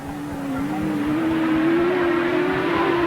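Engine of a fast Yamaha sidecar outfit racing at a grasstrack meeting, a loud, steady high-revving drone that climbs slightly in pitch, close and continuous with no talk.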